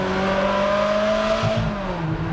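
Ferrari engine pulling hard in second gear through a small underpass, a loud, steady rising drone with strong harmonics that climbs in pitch, then eases slightly near the end, close and continuous.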